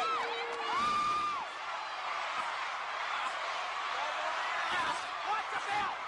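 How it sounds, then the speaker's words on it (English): A wrestling arena crowd at a 1984 world heavyweight championship match cheers and roars steadily throughout, with a few whoops and whistles rising above the noise, while a commentator talks over it. "Look at this crowd, listen to them."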